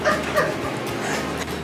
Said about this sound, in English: this is a really happy, happy dog